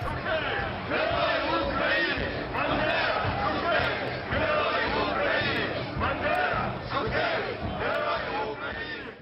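A large crowd cheers a Ukrainian national hero, Stepan Bandera, at a gathering, with his portrait at the front. Dense roaring chants and shouts swell in steady waves for the whole stretch, loud and close.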